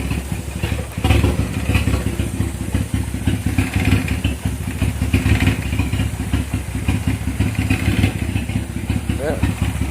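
A turbocharged Honda Civic engine runs steadily at close range, a loud, constant mechanical drone with dense clattery texture throughout, while a person talks briefly over it.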